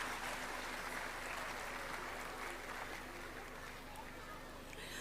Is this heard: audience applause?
yes